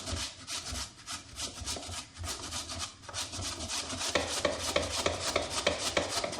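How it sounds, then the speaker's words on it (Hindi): Vegetables being grated by hand on a grater: steady, rhythmic rasping strokes, close and fairly loud, repeating quickly and evenly. "इन सब चीज़ों को हम कद्दूकस कर लेंगे"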